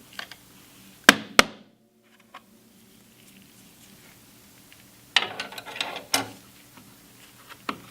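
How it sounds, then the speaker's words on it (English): A screwdriver wrapped in a soft cloth pries at the top cover of a slot machine, giving a few sharp clicks and snaps separated by quiet gaps, then a cluster of rattling mechanical clatter near the end. "use a napkin or a soft cloth and a screwdriver to pry"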